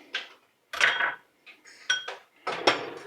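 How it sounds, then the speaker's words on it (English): A spoon stirs chicken soup seasoned with thyme, coriander and parsley in a pot, producing a few separate close metallic clinks and scrapes with short pauses between them. "Just going to stir this around a little bit more."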